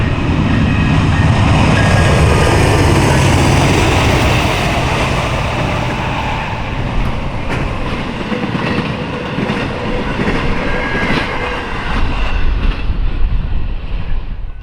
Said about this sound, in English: first up, we got a Norfolk Southern Intermodal with a Dash 9 leader nice, Ace trailing second and AC44 in third.